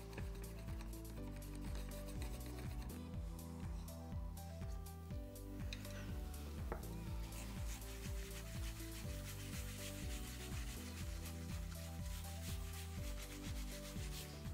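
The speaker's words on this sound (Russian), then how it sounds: "Поэтому очень тщательно перемешать палочкой." A stick stirs wood paint with a continuous scraping, rubbing swish that repeats rhythmically in the container, steady and close throughout with no speech.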